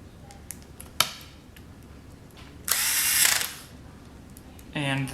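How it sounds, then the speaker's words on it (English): Screws are driven back into the blade drive of an Andis hair clipper. Short whirring, ratcheting tool bursts come up close and loud between quiet pauses, with a few light clicks earlier. "Go ahead and put your screws back in."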